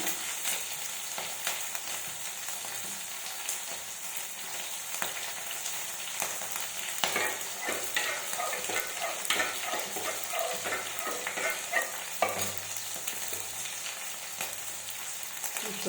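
Garlic paste, green chilies and chopped onion sizzle steadily in a hot pan for dal, with occasional stirring scrapes over a continuous frying hiss and no speech.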